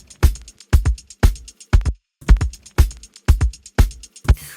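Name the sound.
drum loop sampled from vinyl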